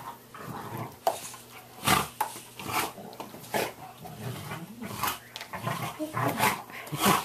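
A dog gives repeated short barks and growly vocal bursts at close range in an irregular rhythm, with soft background noise between them.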